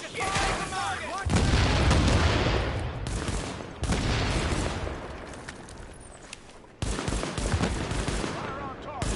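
Gunfire in a Tom Clancy shooter, sidearm-only: dense, loud bursts of shots and booms in three stretches separated by brief drops, with voices calling out in the background.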